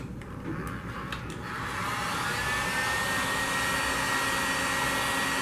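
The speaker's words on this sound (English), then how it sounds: "Use a heat gun like this." A Harbor Freight heat gun blows hot air onto heat shrink tubing on a battery cable. Its steady, close blower roar swells louder after a couple of seconds and then holds constant to the end.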